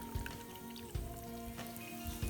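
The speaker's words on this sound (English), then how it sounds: "now I just throw in some sparkling water." Sparkling water poured over ice into a raspberry vodka cocktail with fresh mint gives a steady, soft fizzing hiss, low and continuous, with a few faint clinks and no voices.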